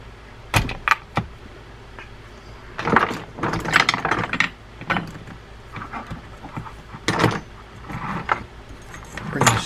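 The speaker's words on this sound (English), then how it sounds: "Bring the spool out." The spool is worked out of a Shimano Speedmaster Fighting Star fishing reel, producing a series of close metallic clicks, clunks and light rattles in irregular bursts separated by brief quiet gaps.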